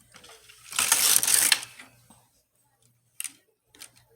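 A knitting machine needle pushed into position on the needle bed makes a brief burst of clicking and sliding, close and fairly loud, followed by a couple of faint ticks after a pause.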